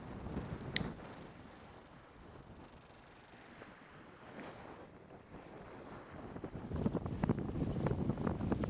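A Searacer 35 keelboat beating upwind through choppy sea, with steady wind rush and slapping, hissing waves against the hull, growing louder and rougher toward the end.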